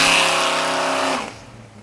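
Big-block 572 V8 in a 1970 Chevrolet Chevelle revving loudly, a strong rising then held roar that drops away after about a second.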